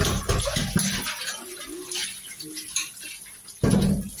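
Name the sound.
washing rice in water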